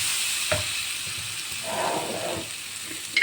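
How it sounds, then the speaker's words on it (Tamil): Chicken masala sizzles and is stirred in a hot oiled pan, a steady frying hiss with soft scraping stirs and a few louder clacks of the spoon against the pan. "கொஞ்சம் சிக்கன் மசாலா, நல்லா வணக்கிக்கணும்"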